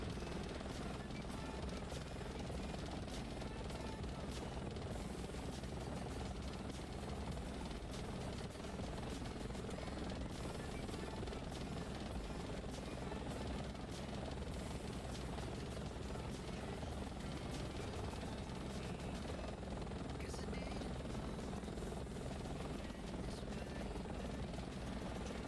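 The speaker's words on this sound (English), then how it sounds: "Go ahead and taxi in here." Steady, dense whir of a Bell 412 helicopter's rotor and turbine engine in the X-Plane 11 flight simulator, a constant loud drone throughout with no breaks.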